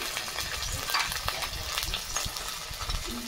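Spices with salt, chili powder and turmeric frying in a pan with a little water, a steady close sizzle broken by scraping stirring strokes, busy and continuous.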